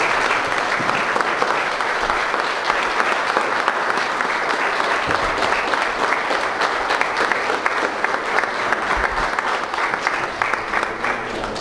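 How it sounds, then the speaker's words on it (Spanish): Churchgoers at a fifteenth-birthday Mass in Miquihuana, Tamaulipas, Mexico, applaud at length, a thick, continuous patter of many hands clapping for nearly twelve seconds with scattered sharper claps and faint murmurs beneath. "Pues vamos a dar un aplauso a Gerardo por sus 15 años."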